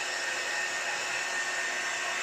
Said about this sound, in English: We will use the trusty hot air wand.